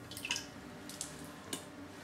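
Water dripping from a removed HiFlo RO30G reverse osmosis resin filter, a few soft drips spaced roughly half a second apart over faint background hiss, close and quiet.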